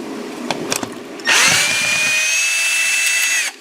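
A power drill backing drywall screws out of an old HVAC thermostat mount, with a few handling clicks and then a loud, steady whine that runs for about two seconds before stopping abruptly.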